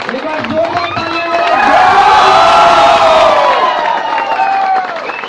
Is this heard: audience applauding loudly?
yes